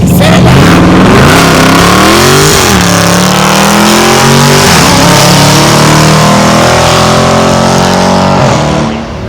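A 2019 Dodge Charger 392 Scat Pack with mid and rear muffler delete revs loudly up close, its engine note rising and falling through several throttle blips in a continuous raw roar, with brief voices underneath.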